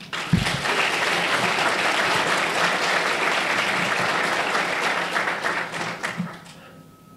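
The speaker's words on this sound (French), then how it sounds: "Je vous demande de les applaudir." An audience applauds security agents of the ASP at an official gathering, dense sustained clapping filling about seven seconds before thinning and fading out near the end.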